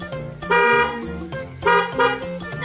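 A car horn is pressed twice during a school scout first-aid drill about being trapped in a vehicle, with two loud, close honks of roughly half a second each, separated by a short pause.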